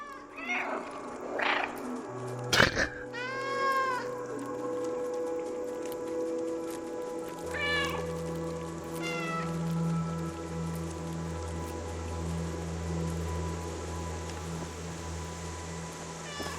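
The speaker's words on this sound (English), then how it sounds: "Oh, you can meow, okay." A cat in the video game Stray meows several times, short high calls over soft steady rain, with one sharp thump and a low droning hum that sets in partway through.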